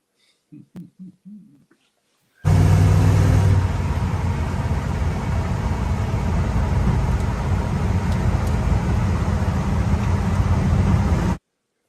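A car engine, heard from a played clip at a muscle car show, runs loud and steady for about nine seconds after a few short bursts of talk, with a strong low rumble throughout.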